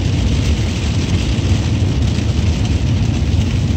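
Heavy rain pours down steadily, a dense, constant roar of drops without pause or voices.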